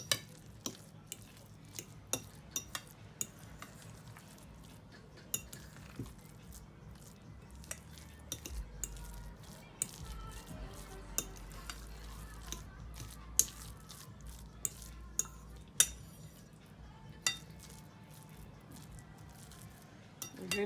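A thick mixture is stirred thoroughly in a bowl for a Sunday roast dinner, with a steady quiet scraping and squishing broken by light clinks of a utensil against the bowl's sides. No one speaks.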